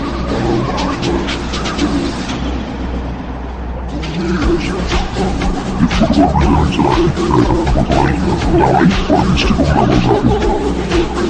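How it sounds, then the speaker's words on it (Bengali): Heavy rain pours down in a steady, dense roar, loud and close, with rumbling that suggests nearby traffic or a shelter roof underneath, continuing without pause. "বৃষ্টি ভালোই জোরে নেমে পড়ছে"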